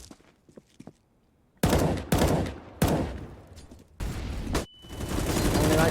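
Bursts of gunfire in the competitive shooter CS:GO during a professional match: several sharp, loud volleys cutting in abruptly, separated by brief quiet gaps, with a faint voice early on.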